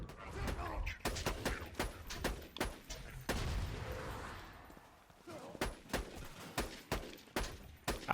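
Rapid gunfire from the video game Borderlands 2, with repeated sharp bursts and clustered volleys of shots, loud and close, interspersed with brief pauses and occasional heavy booms.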